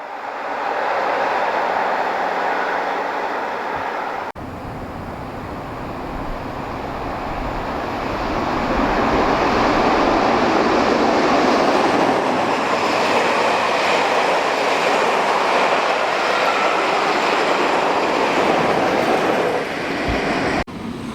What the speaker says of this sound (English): Kingsway Special speeds away from Teignmouth, headed by Class 45, number 45118, the Royal Artilleryman